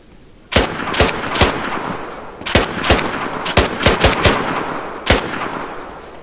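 Ruger gunfire in DayZ rings out as roughly a dozen sharp, separate shots in irregular clusters, fairly close and loud over a steady background hiss.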